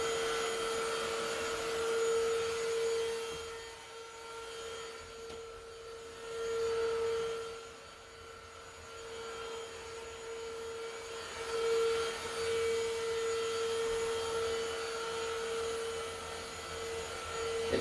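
A Greenote GSC40 vacuum cleaner runs on carpet with a steady motor whine and a droning hum that swells and dips as it moves, continuous throughout with no voices.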